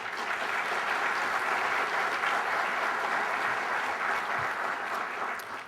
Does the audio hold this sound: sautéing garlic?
no